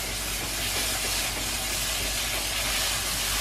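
Ground pumpkin drops into roasting flour in a hot pan for pumpkin halwa, and a dense, continuous sizzle and hiss fills the whole moment at close range, steady and loud, with no talking.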